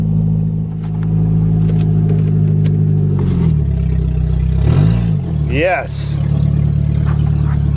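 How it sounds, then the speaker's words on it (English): A 1992 Nissan van with a holed gas tank cranks and catches, its engine idling loudly, then revving up and down in rising and falling swells, with someone talking over it throughout. "I'm gonna get that piece of shit van out of there and see if I can get it running."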